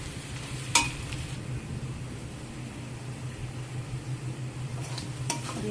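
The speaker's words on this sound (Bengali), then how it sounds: "আদা রসুন দিয়ে ভালো করে মশলাটাকে কষিয়ে নিচ্ছি" A spice paste with ginger and garlic is stir-fried in a pan, giving a low steady sizzle with a couple of sharp metallic clinks of a utensil against the pan.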